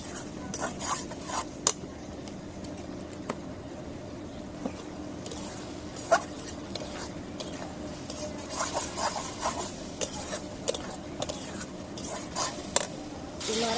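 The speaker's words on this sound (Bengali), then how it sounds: "আদা রসুনের পেস্ট দিব অল্প একটু এখন কষিয়ে নিব" Ginger-garlic paste sautéing for egg curry in a pan, with a steady low sizzle under scattered spoon scrapes and light clinks against the pan, fairly quiet and continuous throughout.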